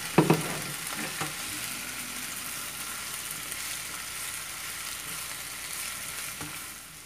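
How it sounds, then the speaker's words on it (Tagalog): Pork steak and caramelized onions stirred together in a frying pan for bistek tagalog, giving a loud continuous sizzle after a few opening clanks of the utensil against the pan. "we're now ready to bring back the pork steak. Okay, so we're going to mix this very well."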